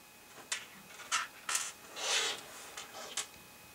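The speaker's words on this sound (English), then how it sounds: "Now I'll install the rear shocks. Find the right screws and I'll be okay." Small screws and metal parts rub and clink while rear shocks go onto a GCM Racing Cross Canyon RC car chassis, a handful of short, quiet scraping bursts and one longer rasp, close and alone.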